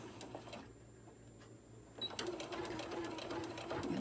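Sewing machine stitching the seam of a small tote bag, faint rapid needle chatter that pauses briefly before running again more loudly, with faint background noise.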